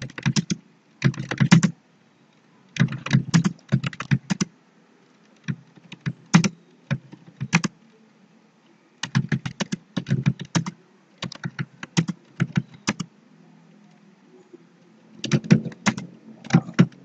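Touch typing practice on a computer keyboard, with bursts of rapid keystrokes separated by short pauses, close and fairly loud, with no talking.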